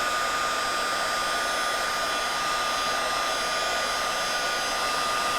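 A craft heat tool blows hot air over embossing powder on a Ranger craft mat, giving a steady, unbroken whirring hiss close to the microphone, with nothing else audible.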